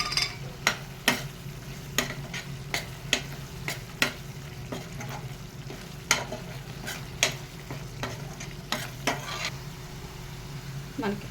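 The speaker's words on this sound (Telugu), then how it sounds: "ఇంకా ఇప్పుడు మనం కరివేపాకు పచ్చిమిరపకాయ వేసేద్దామండి" Curry leaves and green chillies frying in a pan of chicken kofta curry gravy, with a steady low sizzle and a series of sharp stirring scrapes and clinks at an irregular pace, close by.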